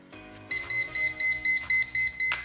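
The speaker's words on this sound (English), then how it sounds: "When water hits these 2 metal prongs, it will beep." An electronic liquid level indicator with two metal prongs, hooked on a cup as water from a kettle is poured, gives a rapid run of short, clear, evenly spaced beeps, loud and close, with no talk.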